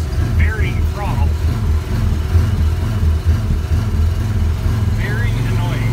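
A wood-gasifier-powered vehicle idles with a rough, surging engine note that rises and sags continuously, loud and close, while someone talks over it.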